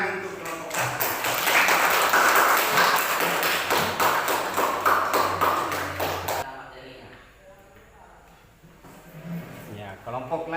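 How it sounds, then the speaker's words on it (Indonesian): Classroom applause for a student group after its presentation, a burst of clapping from a room of students that fills the first six seconds and then gives way to quieter murmuring and talk. "beri tepuk tangan untuk kelompok 1"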